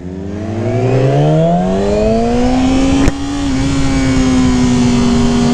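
A Yamaha R6 sport motorcycle accelerating hard, its engine note climbing steadily in pitch as it revs up, loud and close, with a brief crack near the middle before the high whine carries on.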